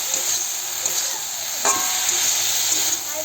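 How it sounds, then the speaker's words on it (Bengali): Food seasoned with salt and turmeric fries in a pan with a loud, continuous close sizzle and hiss, broken by a few faint stirring clicks. "5 মিনিটের জন্য ভেজে দেব।"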